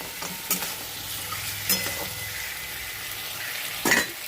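Fried lentil dumplings (bori) are stir-fried in a pan with salt, turmeric and jaggery. A low, steady sizzle runs throughout, with a few soft scrapes of a stirring utensil against the pan.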